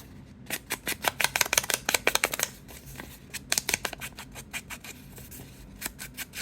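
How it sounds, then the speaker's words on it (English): Paper is torn along a ruler while making a mini journal from a paper towel tube, heard as two bursts of quick, crisp ripping strokes, close and dry, separated by a short pause. "I'm just going to put my ruler and tear"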